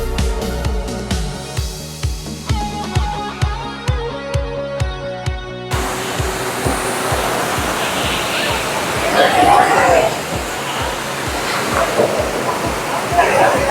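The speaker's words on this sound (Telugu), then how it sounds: "monkey water falls" Rhythmic music plays first, then it gives way to the loud, steady broadband rush of Monkey Falls beside the road between Pollachi and Ooty in Tamil Nadu, with voices faintly mixed into the roar.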